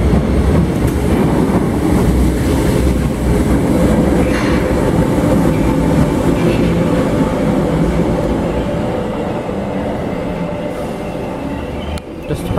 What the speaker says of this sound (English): Just departing over here. Kirkby 508134.